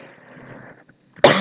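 A single sharp, loud cough bursts out close to the microphone from a man suffering a cold and fever, right after a stretch of quiet low murmur.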